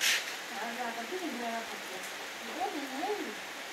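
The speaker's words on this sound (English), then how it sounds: "it is raining, raining, raining heavily" Heavy rain falls outside as a steady broadband hiss, while voices sing or talk over it throughout.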